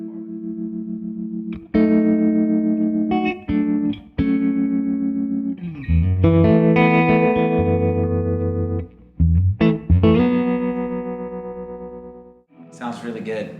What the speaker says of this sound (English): you can get that Leslie sort of effect going on this amp